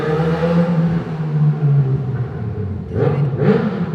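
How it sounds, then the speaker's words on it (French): Motorcycle engine roaring nearby, a sustained rumble that dips and then revs sharply twice near the end, heard outdoors. "la moto qui fait rugir son moteur"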